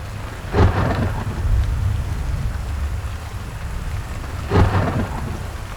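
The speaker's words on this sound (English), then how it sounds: "There's a crack of thunder over here." A thunderstorm sample on an SP404 sampler: steady rain with two sharp, booming thunder cracks about four seconds apart, each rumbling off into the constant downpour.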